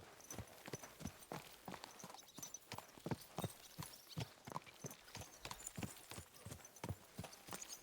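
Horse hooves clip-clop in a steady walking rhythm during a ride in Kingdom Come: Deliverance 2, a sharp, evenly spaced series of hoofbeats, fairly close and alone without talk.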